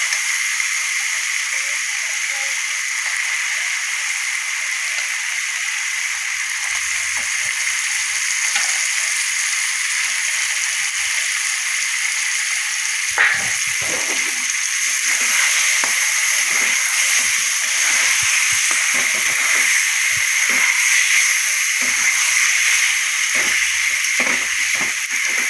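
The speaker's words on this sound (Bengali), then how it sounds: "এবার মাংসটা দিয়ে দিই।" Chicken legs fry in hot oil in a pan, giving a loud, steady sizzle with hiss throughout and brief bursts of crackle and spatter in the later part.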